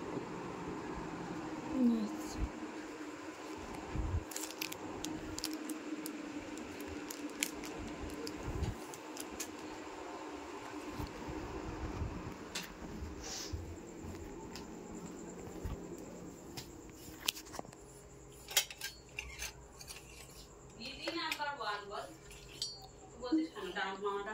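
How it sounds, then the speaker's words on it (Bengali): Metal spoon clinking against a dish while eating falooda, faint scattered clinks and scrapes at a quiet indoor home setting, with soft background noise and insect-like chirping, no clear talk over it. "একটা চামচ নিয়ে ব্লগিংয়ে খাবো"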